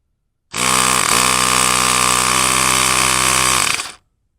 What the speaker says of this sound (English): I've just got a little air compressor here, and